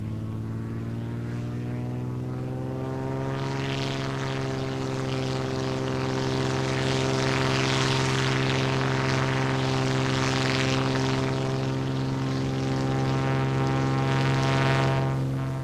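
A propeller airplane engine running at full power for takeoff gives a loud, steady, close drone with strong harmonic tones that swell slightly and hold for the whole stretch, without any talking.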